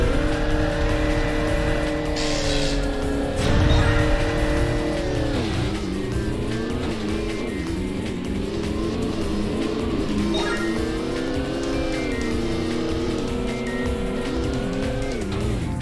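Racing vehicles in the Jet Moto 3 video game, whining engine tones that rise and fall steadily under game music, with squealing skids and a brief burst of noise near the start.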